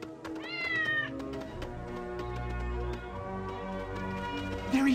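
Sam, a pet cat in LEGO Marvel's Avengers on Barton's Farm, gives a rising meow early on, over steady game music and ambience, with a second short cry at the end.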